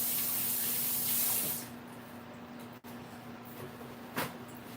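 Tap water runs steadily during handwashing in a home kitchen, a broad hiss that cuts off abruptly after about a second and a half, leaving quieter splashes and faint handling sounds.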